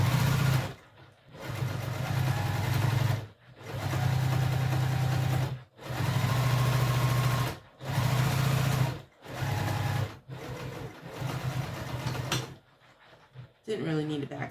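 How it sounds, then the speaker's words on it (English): A Juki TL18 QVP high-performance sewing machine stitches fabric in several loud, steady bursts of a few seconds each, separated by short pauses, backstitching along a bag seam, with a brief quieter rustle at the end. "This is a high performance machine. It is the Juki TL18 QVP."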